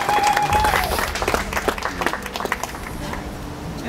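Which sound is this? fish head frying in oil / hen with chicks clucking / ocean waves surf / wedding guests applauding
wedding guests applauding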